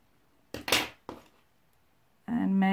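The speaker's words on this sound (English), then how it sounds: "and then cut the yarn" Scissors snip through crochet yarn while finishing a face mask, giving two short crisp cuts close by, followed by a sustained louder rustle and tonal noise at the end.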